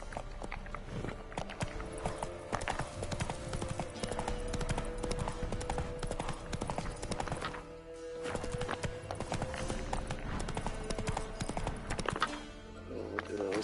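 Horse hooves clip-clopping at a steady gallop in The Witcher video game on PS5, with an occasional whinny, loud and continuous over a bed of game music.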